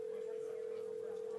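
Steady electronic ring tone on a conference call phone line, a single unbroken held pitch filling the whole moment at low volume with faint room hiss beneath.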